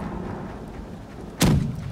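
One ship cannon fires in the pirate naval game Blackwake, a single sudden heavy boom near the end of a stretch of quiet low ambience.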